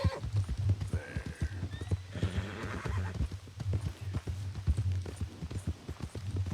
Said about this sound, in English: This horse isn't as fast as my white one.